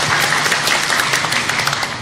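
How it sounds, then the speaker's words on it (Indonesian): A crowd of women in an audience clap together for an a cappella group, a dense, even wash of hand claps at close range with no pauses. "Iya, tepuk tangannya dong ibu-ibu semuanya."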